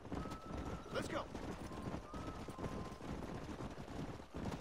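A horse's hooves clip-clop steadily in the Red Dead Redemption video game, faint and rhythmic, with a brief whinny partway through and a player talking over it.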